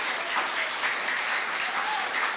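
Church congregation at a Sunday service applauding a family invited up front, a soft, even patter of many hands clapping at moderate distance with no speech.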